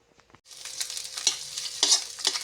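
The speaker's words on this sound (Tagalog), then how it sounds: "Ito guys, igigisa ko itong langka. Ayan ang bawang." Garlic and jackfruit hitting a hot pan, a sudden loud sizzle starting after a brief near-silent moment, then a continuous fry with a few stirring scrapes, close and alone.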